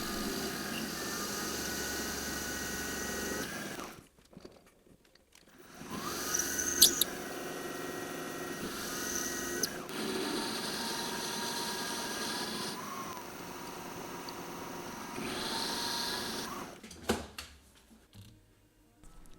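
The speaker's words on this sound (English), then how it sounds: "So what I'm going to do is pre-drill some holes and then use multiple end mills while stepping up the size." Metal-cutting machine pre-drilling holes and milling a pocket with end mills into a vise jaw, a steady high-pitched whir in several passes separated by short quiet breaks, close and without talk.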